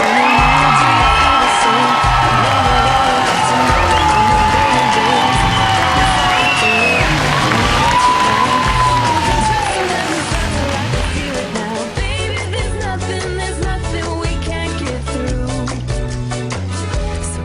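Wedding guests whoop and cheer loudly for the newlyweds, Mr. and Mrs. Ethan and Nicole, as a big crowd roar over loud music, fading somewhat toward the end.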